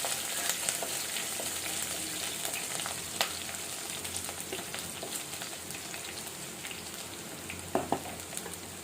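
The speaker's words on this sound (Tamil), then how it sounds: "வெள்ளைப்பூண்டு சதைச்சி வச்சுருக்கேன், இடித்து வச்சுருக்கேன், அதை போடுவோம். அதை கொஞ்சம் ஃப்ரை பண்ணணும்." Crushed garlic frying in hot oil for a Kerala-style sardine curry, a steady sizzle throughout with a few light stirring clicks and pops near the end, no talk.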